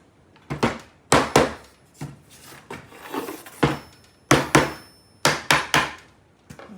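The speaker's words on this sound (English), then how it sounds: "you may have to take a hammer and tap them until they're all perfectly flush on all 4 sides" A hammer taps the wooden corners of watercolor stretcher bars flush, a series of sharp, close knocks in irregular pairs and clusters with short pauses between.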